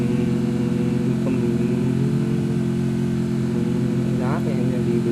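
A vehicle engine in the Free Fire video game, a steady mid-pitched hum running throughout as the car is driven, with a brief rising rev near the end and a player talking over it.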